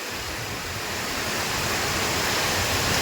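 Heavy monsoon rain driven by wind pours down in Talaja, a continuous, dense hiss with a low rushing roar that holds steady and swells slightly, with no voices.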